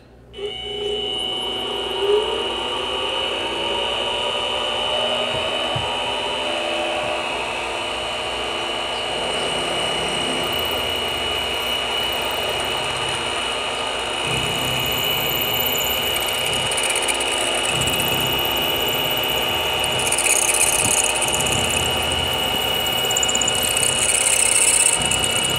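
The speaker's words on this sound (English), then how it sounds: "lock that axis, and I'll drill the next hole" A steady milling machine whine with a high, constant squeal of metal being drilled, close and continuous, grinding and scraping shifting as the cut goes deeper.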